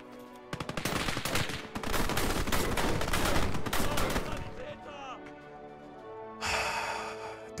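Machine gun fire in the World War II game Gates of Hell rattles in loud sustained bursts, then breaks off into quieter background battle noise, with another short burst near the end.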